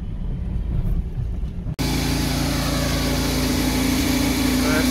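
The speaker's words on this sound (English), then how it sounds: "We have an auger behind us going to the next bin." A grain auger runs behind the bins at harvest, moving grain to the next bin: a steady, loud mechanical drone with a constant hum, which starts abruptly after a quieter, rumbling first stretch.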